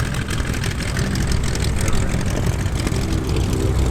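An RV light aircraft flies over on arrival at Oshkosh, its propeller engine a steady, fairly loud drone throughout with no gaps.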